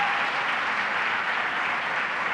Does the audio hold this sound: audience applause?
yes